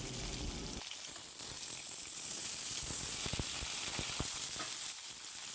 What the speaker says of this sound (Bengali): সমস্ত সবজিগুলো এবার একসাথে ভালো করে ভেজে নেওয়া হবে